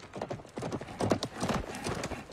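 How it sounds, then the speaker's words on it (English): Horse hooves clip-clop in a TV drama set in feudal Japan, a quick uneven run of close hoofbeats with a brief whinny partway through, over faint background sound. "Are you on a horse?"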